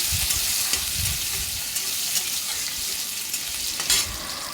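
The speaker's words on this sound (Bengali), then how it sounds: "দিয়ে দিচ্ছি কিছু আলু আলুটা আমি ভেজে নেব কিন্তু সুন্দরভাবে আগে প্রথমে" Potatoes frying in hot oil with cumin seeds and a bay leaf, a steady close sizzle with occasional stirring scrapes, no voices.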